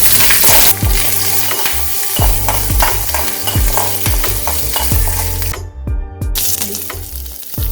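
Curry leaves, small shallots and garlic frying in oil for radish chutney, a loud close sizzle with repeated stirring strokes against the pan and a brief watery splash near the end.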